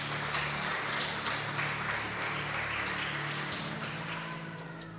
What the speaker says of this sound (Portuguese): Vocês podem aplaudir a Deus pelos ofertantes dessa noite.